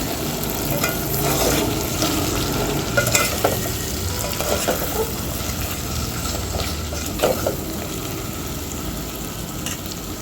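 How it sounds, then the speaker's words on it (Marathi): French beans, carrots and other vegetables sautéed in a pan with repeated stirring, a loud, close, steady sizzle punctuated by scraping strokes of the spoon. "मी इथे भाज्या घातलेल्या आहे आणि याला छान परतून घ्यायचं थोड्या वेळ"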